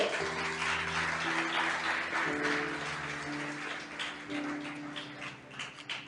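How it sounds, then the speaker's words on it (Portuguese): A congregation in a church claps continuously over soft sustained keyboard chords, the applause dense and fairly close, holding steady with slight swells before tapering a little at the end. "Você pode aplaudir o Senhor?"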